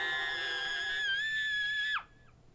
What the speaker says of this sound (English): managed to hear the scream that tears through the surrounding silence.